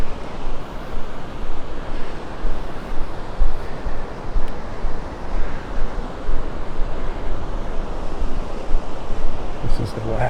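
Beach surf and wind at Vanderbilt Beach in North Naples, Florida: waves wash in rolling surges over a constant gusty roar of wind buffeting the microphone, near and fairly loud, with no talk.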